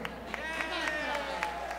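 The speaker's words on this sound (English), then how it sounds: "How about another big round of applause for me" An audience applauds a band leader at a Latin band show, giving steady clapping with occasional sharper claps under a voice talking over it.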